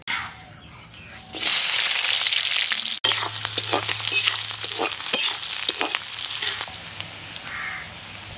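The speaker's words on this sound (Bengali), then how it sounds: "ওই তেলে পেঁয়াজ কাঁচা লঙ্কা দিয়ে দেব।" Sliced onion and green chilies dropped into hot oil in a village kitchen for an egg and potato curry: a sudden loud sizzle that settles into steady frying with stirring scrapes, close and alone.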